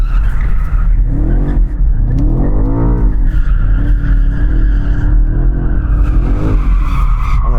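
A BMW M5 in 2-wheel drive mode spins its tyres, with loud, continuous squealing and roaring engine revs close by, sustained throughout with no talk.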